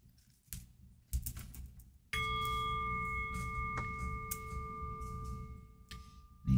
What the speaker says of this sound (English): And by the sound of the bell